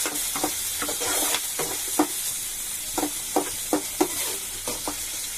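Onions and green chillies frying in a smoking-hot pan hiss continuously, with repeated rhythmic spatula scrapes and stirs punctuating the bright, close sizzle.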